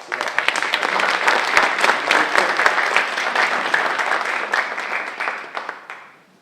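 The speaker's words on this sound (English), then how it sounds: "Let's have a round of applause for the first." Audience applause after a word is spelled at a 2019 spelling bee, dense overlapping claps filling the room for several seconds before tapering off at the end.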